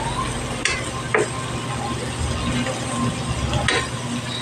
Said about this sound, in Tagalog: Gisa-gisa na natin sa gilid.